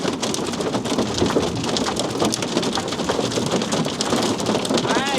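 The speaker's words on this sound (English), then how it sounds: "we are parked in a hailstorm. Pretty good sized hail." Hail pelts the roof of a parked camper van during a hailstorm in Europe, a dense, steady drumming of many hard impacts that stays loud and unbroken throughout.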